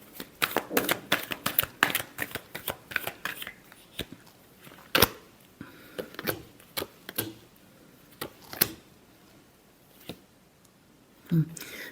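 Tarot cards are shuffled by hand in quick riffling bursts, crisp and close at first, then slowing into scattered sharp flicks and taps with pauses between.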